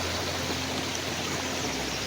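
A constant rushing flow at Mashenuloddi waterfall, moderately loud and near, with an even, hissing wash and no talk.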